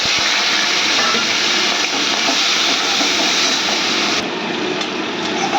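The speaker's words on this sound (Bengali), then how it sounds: "চিংড়ি মাছগুলো ভালো করে ভেজে নিচ্ছি লাল করে" Prawns fry in hot mustard oil in a pan, giving a loud, steady, close sizzle that dips slightly near the end.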